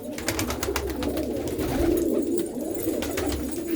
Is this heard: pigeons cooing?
yes